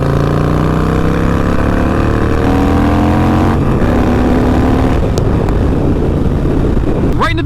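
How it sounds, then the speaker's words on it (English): A 2020 Harley-Davidson Roadster fitted with a Vance and Hines Fuel Pack rumbles close by and revs, its pitch rising and falling, with a rider speaking over it. "I just love the way the bike sounds now."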